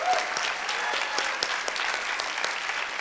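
An audience claps through a round of applause at a high school senior honors night, a continuous sustained patter with crisp individual claps standing out, no voices over it.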